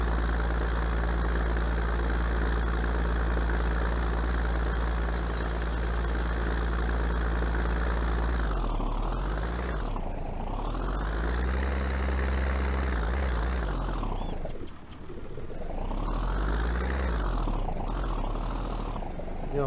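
Tractor in Farming Simulator 19 labours with a continuous, loud engine drone whose pitch repeatedly sags and climbs as it strains under load, heard up close without speech.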